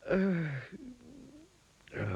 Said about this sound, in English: Later, Mr. Lazy opened his eyes again, yawned